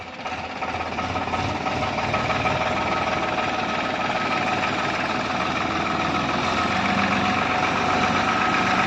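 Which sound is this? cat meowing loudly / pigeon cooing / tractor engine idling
tractor engine idling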